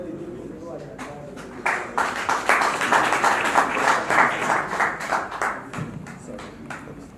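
An audience claps at a forum of an alliance of political parties and civil organizations. The applause starts after a quiet opening, swells into a dense, steady patter of many hands, then thins toward the end.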